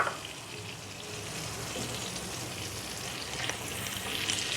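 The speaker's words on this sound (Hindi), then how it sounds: "और आंच को तेज़ करके इसको अच्छी तरह से हमने फ्राई कर लिया" Finely chopped garlic sizzling in a generous pour of olive oil over a raised flame, a steady, soft frying hiss with faint crackles, close and continuous without any voices.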